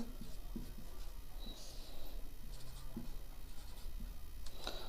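Chalk or marker scratches across a classroom board during a chemistry lesson, faint, intermittent scraping strokes with short pauses between them and no speech.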